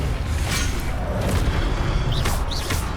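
A Protego shield charm cast in Hogwarts Legacy: a dense, roaring magical surge with a low booming body holds steady for about three seconds, with faint whooshing sweeps near the end.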